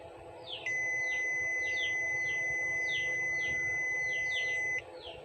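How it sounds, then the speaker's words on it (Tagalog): A multimeter continuity buzzer sounds a continuous electronic tone for about four seconds while testing a power inverter for shorts, then abruptly stops, with faint chirping birds and quiet background noise around it. "Kung huminto yung buzzer niya ay ibig sabihin walang shorted."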